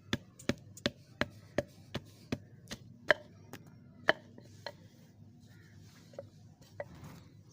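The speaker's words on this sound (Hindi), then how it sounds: "इस तरीके से कूट लेनी है सरसों की खली।" Mustard oil cake being pounded fine for rohu fish bait gives a steady run of sharp, close thuds at an even pace, then a few sparser, softer knocks.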